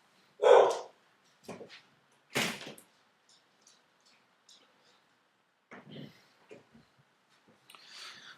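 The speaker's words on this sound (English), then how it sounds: "Dog outside reacting to my claps." Scattered dog barks sound at a distance, loud single yaps separated by quiet gaps, with a few fainter bursts later on.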